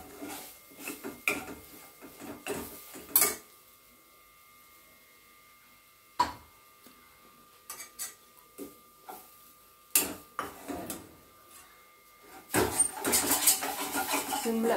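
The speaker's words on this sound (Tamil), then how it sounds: "நல்லா கெட்டி மாகிற வரையிலும் கிளறிட்டுட்டே இருக்கணும்" Moong dal mixture stirred in a pan gives irregular scraping and clinking of a utensil against metal, broken by quiet pauses and a denser burst of scraping near the end.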